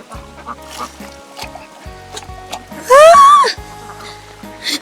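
Ducks honk and quack loudly on a farm for about half a second mid-clip, close by, among scattered clucks and farmyard noise.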